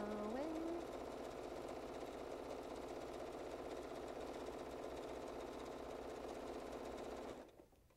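A sewing machine stitches a reversible placemat in one steady, even run of rapid needle strokes, close and continuous, then stops abruptly just before the end.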